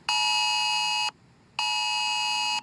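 Electronic emergency alert tone sounding during an evacuation drill in Taiwan, two loud sustained beeps of about a second each separated by a short gap, with no voices.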